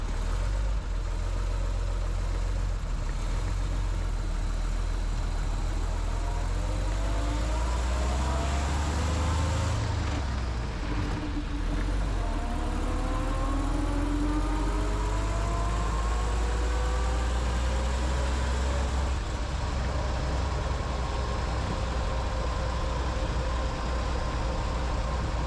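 A 1914 Packard 4-48 Six engine runs steadily with magneto ignition, giving a continuous low rumble and a loud, even drone that carries on without any talk.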